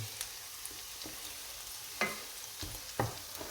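Onions cook down in butter in a pan with a soft continuous sizzle, while a utensil gives a few light scrapes and two sharper taps about a second apart, close and quiet with no speech.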